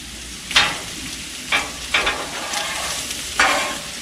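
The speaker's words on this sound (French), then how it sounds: "On va mélanger le tout." Fried meat and potatoes are stirred in a sizzling pan, with four distinct scraping stirs cutting through a steady frying hiss, close and fairly loud, and no talking.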